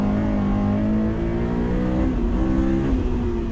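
A Honda S2000 on Continental DWS Extreme Contact street tires accelerates hard around a race track, its engine droning loud and steady with rising harmonic pitch, close and continuous throughout.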